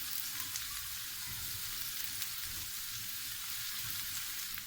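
Chopped onions softening in hot oil in a pan, giving a steady, dense sizzle with soft scraping as they are stirred, continuous and close.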